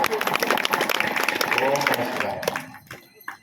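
Small gathering at an outdoor village shrine with a Shiva lingam under a tree, clapping briefly with speech over it. The claps thin out and stop after a few seconds.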